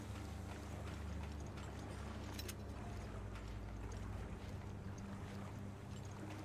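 Water sloshes and laps steadily in Resident Evil: Revelations, a continuous low churning wash with faint splashy detail, moderately loud and unbroken throughout.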